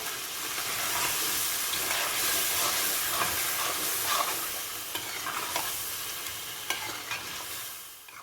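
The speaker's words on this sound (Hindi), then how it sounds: "साथ ही हम 2 टेबलस्पून दही है वो डाल देंगे और इसको हम अच्छा सा मिक्स कर लेंगे।" Yogurt being stirred into mutton karahi in a hot pan, with steady close scraping and mixing over a continuous loud sizzle and hiss, and no talking.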